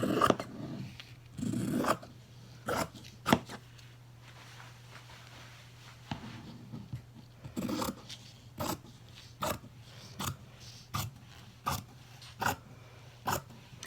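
Scissors snip through fabric along the edge of a pinned face mask pattern, giving a close, regular series of crisp crunching cuts with soft rustling between them.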